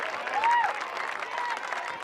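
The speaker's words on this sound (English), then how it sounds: "And this is about as alive as both crowds have been all weekend." Spectators at a Big Ten college softball game between Oregon and Minnesota clap and cheer in a steady crowd roar, a whistle or shout rising briefly near the start, the broadcaster's voice faintly underneath.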